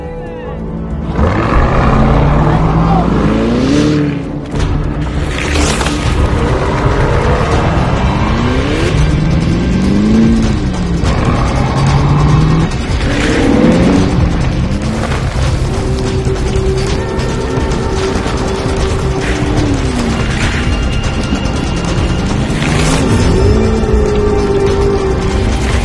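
A Ferrari engine revs repeatedly, its pitch climbing and falling in loud sweeping waves with mechanical whine and rattle, heard up close for nearly half a minute alongside brief voices.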